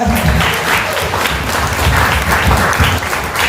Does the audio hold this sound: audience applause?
yes